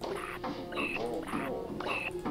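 Frog croaking in the game Botanicula, a few rhythmic, nasal croaks repeating at close range over a soft musical background.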